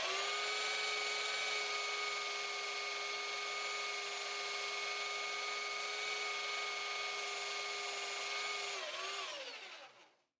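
A belt cleaner stick pressed against a dirty sanding belt on a running sander, a loud, steady tonal whine with a gritty rubbing layer that holds for about nine seconds before the machine winds down and fades out.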